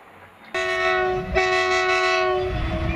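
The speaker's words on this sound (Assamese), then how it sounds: "আৰু এই ট্ৰেইন আহি আছে," A train approaching near a lakeside blasts a long, loud, tonal horn that starts abruptly and holds for a couple of seconds, with a rail rumble underneath as it draws closer.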